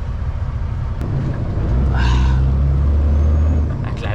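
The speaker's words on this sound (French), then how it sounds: "La bus en plus sur le côté." A city articulated bus pulls alongside on a busy Montreal street, its low diesel rumble close and loud, with a brief air-brake hiss partway through.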